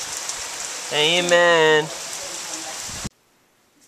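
Rain falls as a steady broadband hiss on a rainy day indoors. A voice briefly sings or chants over it, and the sound cuts off abruptly near the end.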